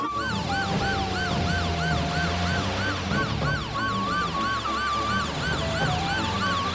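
An ambulance siren wails loudly and close in a repeating rising-falling pattern, with a second siren tone and a vehicle engine rumble underneath.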